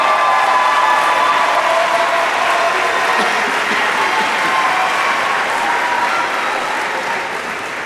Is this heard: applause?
yes